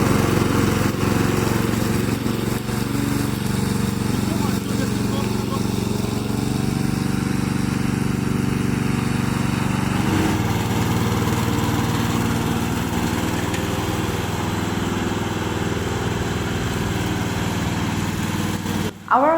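A remote control robotic lawn mower runs with a steady, loud engine drone, constant and unbroken throughout, heard close with a slight shift in pitch partway through.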